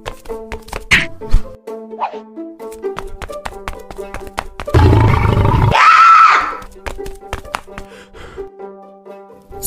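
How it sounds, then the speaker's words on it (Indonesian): Lion roar in a stop-motion army men animation, a loud sustained roar bursting out midway among sharp plastic taps, clicks and thunks. "Sial, kenapa ada singa di tempat seperti ini?"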